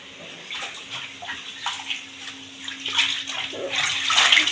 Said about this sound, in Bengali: এখন লাস্ট এই ধোয়াটা দিয়ে উঠিয়ে দেবো